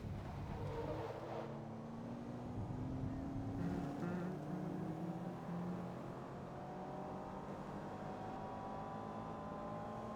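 Race car engine in Gran Turismo 7 during a rally event, a steady droning whine with rising pitch as it accelerates along a straight, moderately loud and continuous throughout.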